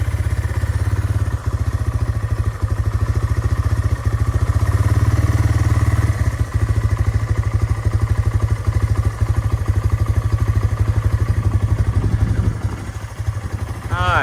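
A vehicle riding over rough ground, its engine droning loudly and steadily, with repeated thumps and rattles from bumps along the way and a brief voice near the end.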